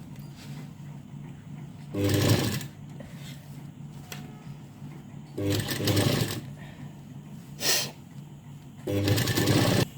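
A sewing machine stitches a blouse in three short bursts of close mechanical whirring separated by pauses with fabric handling and a faint background hum.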